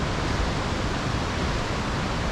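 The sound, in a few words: ocean waves crashing on beach, Nusa Penida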